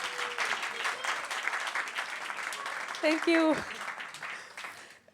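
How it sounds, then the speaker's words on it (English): Audience applause at an outdoor festival park stage, steady clapping throughout under a host's voice, with a brief thank-you spoken near the end. "Yes, a big applause."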